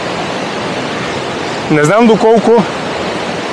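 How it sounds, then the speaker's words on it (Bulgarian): Steady, dense roar of the Boka (Skakla) waterfall fills the whole clip, loud and constant, while someone briefly speaks over it near the middle. "това е водопада Скакла"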